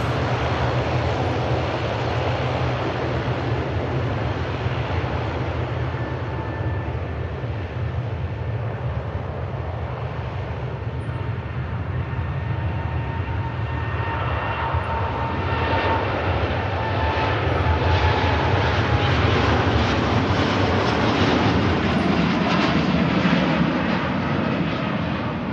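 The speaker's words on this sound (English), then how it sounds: "Four-year-old Dreamliner gets out from Manchester." Four-year-old Boeing 787 Dreamliner taking off from Manchester on a flight to Bahrain, a sustained loud jet roar that swells and grows harsher in the second half as the aircraft powers past, no talking.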